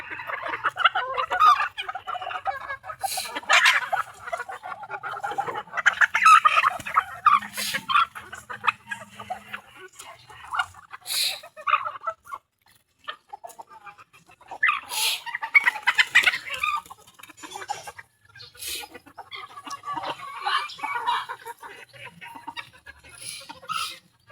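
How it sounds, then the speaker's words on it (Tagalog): A duck calls from a poultry pen in repeated loud bursts of close, raspy calls, broken by short quiet gaps and mixed with other fowl sounds, with no speech. "Kulit ng pato, kailangan subuan talaga."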